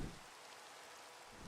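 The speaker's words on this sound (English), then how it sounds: "The rain will be a lot less intrusive" Steady rain from a Minecraft texture pack's weather effect, a soft continuous hiss with no distinct drops, faint and even throughout without any talk.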